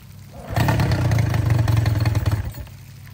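A new Hangkai 18 hp outboard motor starts after a short pause and runs for about two seconds, a loud close rattling engine note that then cuts out.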